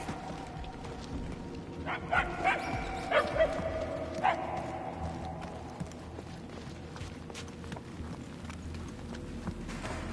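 Distant dog barks, a short cluster of faint yips early on, over steady outdoor ambience with clip-clop sounds and little else.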